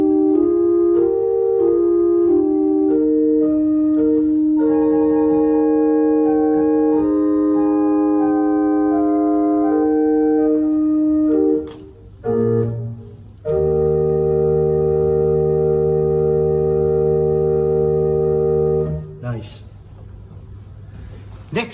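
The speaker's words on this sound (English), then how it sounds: "The next stop is a flute. It's also an 8-foot. It is a raw flute." Sustained pipe organ notes on a soft 8-foot flute stop in a church, pure and round, played as slow held chords with brief pauses between phrases.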